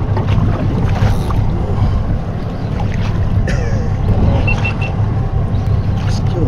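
A fishing boat's outboard engine idles on the water off the Whitsundays, Great Barrier Reef, a steady low drone under wind and splashing, with scattered voices of people talking over it.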